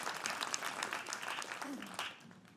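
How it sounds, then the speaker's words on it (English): Applause from a media summit audience during a closing plenary session, a steady wash of many hands clapping at moderate level for about two and a half seconds. "round of applause for that too"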